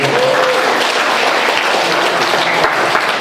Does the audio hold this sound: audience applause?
yes